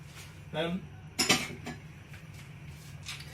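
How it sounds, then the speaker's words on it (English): Utensil scraping and clinking in a pan while milk is stirred into a thickening flour sauce for chicken tetrazzini, a few short close scrapes and taps over a low steady hum. "Now we're just going to stir this, or you can whisk it."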